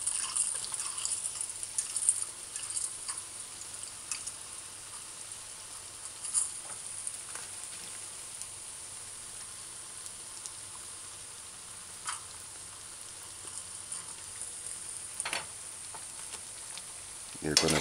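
Okra and codfish fritters fry in hot oil, giving a steady, fairly soft crackling sizzle with scattered sharper pops throughout.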